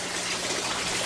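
Water flows steadily through a hydroponic tube in a hot tub aquaponics setup, a continuous close-up gushing rush with no pauses.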